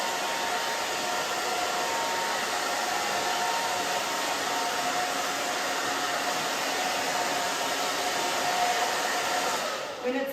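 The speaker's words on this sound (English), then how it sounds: "I love the Ageless Pro blow dryer." An Ageless Pro blow dryer roars steadily and loudly at close range while drying freshly cut pixie-length hair, holding a continuous airy whoosh for about ten seconds before cutting off, with no talking.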